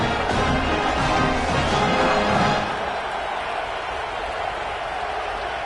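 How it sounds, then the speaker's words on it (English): A home crowd cheers at a college football game between North Dakota State and Michigan after a punt return: a broad, loud roar that stays high for a couple of seconds, then settles into a lower, steady murmur. "You can hear this home crowd going bananas."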